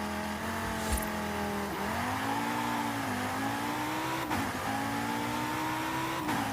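A KTM X-Bow GT4 race car in Forza Horizon 5 launches and accelerates hard, its engine note climbing through several rising sweeps broken by quick gear shifts, loud and continuous with no talk.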